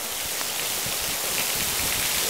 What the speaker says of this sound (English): God bless the rains down in Mexico.